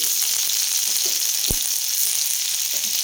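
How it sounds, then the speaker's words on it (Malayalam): Ginger garlic paste fries in hot coconut oil after mustard seeds, a loud, even sizzle throughout with light stirring scrapes and a single dull knock in the middle. "കടുക് പൊട്ടിക്കഴിയുമ്പോൾ ഇഞ്ചി വെളുത്തുള്ളി പേസ്റ്റ്"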